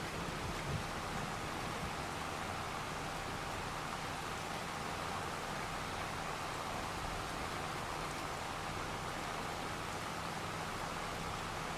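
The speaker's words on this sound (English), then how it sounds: "It's one of those sunny rain days." Steady rain falls in the Farming Simulator 25 video game, a constant dense hiss with no pauses and no voices.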